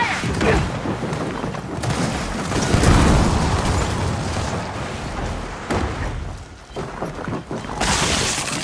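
A thrown fire grenade bursts in a shooter video game, a dense, sustained blast with a rolling whoosh that swells and then lingers under the busy game mix, with an excited voice calling out nearby.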